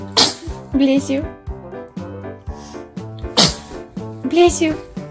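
Babies sneeze several times in quick succession, sharp bursts spaced a few seconds apart, with short voiced sounds and soft background noise between them.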